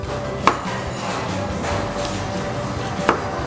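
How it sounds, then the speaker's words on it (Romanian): A knife slicing red and yellow pepper into thin strips on a board, two sharp distinct cuts about two and a half seconds apart over quiet kitchen background. "Ardeiul să-l tăiem pai."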